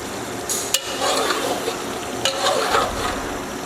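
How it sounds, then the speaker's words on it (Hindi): Ridge gourd sabzi is stirred with a spoon as it fries in a pan: a steady sizzle with a few sharp scrapes and clinks of the spoon, close and fairly loud, with no talking. "अब भूनते हुए 4 से 5 मिनट पकाएंगे। इस मौके पे आके चम्मच को बराबर हिलाते रहना है ताकि नीचे से लग ना जाए।"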